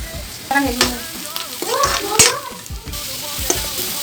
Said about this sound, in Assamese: এয়া পিঁয়াজ ফ্ৰাই হৈ গ'ল।